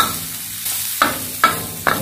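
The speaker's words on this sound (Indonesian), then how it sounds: "Okay, tumis sehingga isi air ni masuk dan bawang putih tu dia wangi ya." Garlic sautéing in a pan for egg fried rice: a quiet sizzle broken by three sharp scraping stirs of a spatula, spaced evenly about half a second apart.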